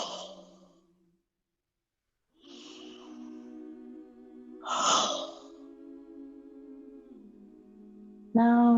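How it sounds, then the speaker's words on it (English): Slow, open-mouthed exhalations like fogging up glass during a yoga flow, several long breathy outbreaths separated by pauses, close and fairly loud, with one sharper breath near the end. "go through a few breaths, imagining that you're fogging up that glass"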